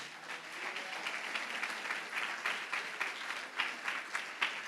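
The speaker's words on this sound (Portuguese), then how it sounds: "Você pode aplaudir Jesus Cristo?" Church congregation applauding during a Portuguese-language sermon, a steady wash of many hands clapping at moderate, fairly distant volume, with occasional sharper claps rising above it and no talk.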